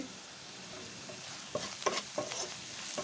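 Turmeric and salt fry in hot oil while a spoon stirs them, giving a quiet sizzle and a few sharp scraping strokes in the second half, close and without talk.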